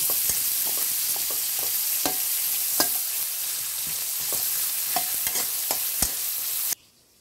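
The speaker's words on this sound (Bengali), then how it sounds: "আদা কুচি, রসুন কুচি এবং পেঁয়াজ কুচি দিয়ে নিলাম। এগুলো আমরা একটু ভেজে নেব।" Chopped ginger, garlic and onion frying in oil in a karahi for a beef curry: a steady close sizzle broken by repeated sharp stirring scrapes. There is no talk, and the sound cuts off near the end.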